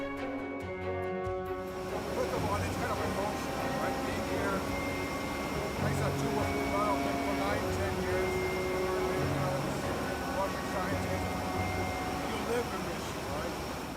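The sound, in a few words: airplane cabin noise during interview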